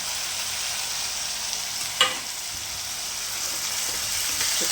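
Washed urad dal sizzles in hot oil for upma, a steady, even frying hiss with one brief splash and crackle partway through, with no voices.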